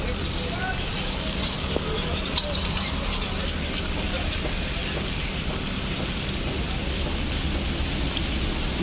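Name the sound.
rain falling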